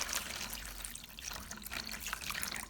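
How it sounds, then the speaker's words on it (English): Clean water is poured over ginger pieces to cover them for washing with salt and baking soda, producing a soft, steady continuous trickle and splash that stays faint and close throughout. "Pour in enough clean water to cover the ginger."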